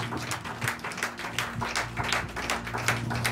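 A church congregation applauding during a worship service, brisk overlapping clapping that carries steadily at moderate volume, with a low sustained tone underneath.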